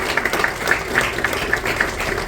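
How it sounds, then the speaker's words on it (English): An audience at the Lake Michigan Day 2024 event applauds its planning committee, a brief burst of clapping with a few sharp individual claps standing out. "let's give them a big round of applause"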